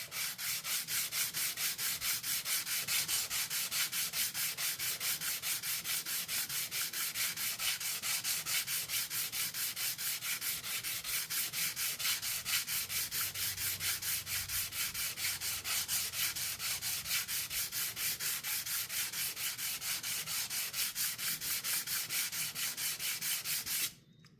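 Steady back-and-forth hand sanding of a titanium knife scale at 320 grit toward a satin finish, close and continuous with even rhythmic rubbing strokes for over twenty seconds, stopping abruptly at the end, no talking.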